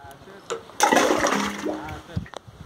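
Borewell water gushes and splashes in a sudden loud burst on farmland, then trails off into smaller spatters while someone talks nearby.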